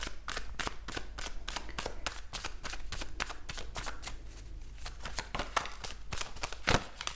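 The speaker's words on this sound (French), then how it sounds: "Je vais mettre une autre carte pour ce 10 de bâton" Tarot cards being shuffled and laid out, a rapid rhythmic series of crisp riffling flicks and slaps, close and fairly quiet, with no talking.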